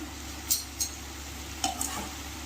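Soft stirring scrapes over a steady low sizzle as ridge gourd is sautéed in a pan on low heat, with a few brief clinks spaced out, no talking.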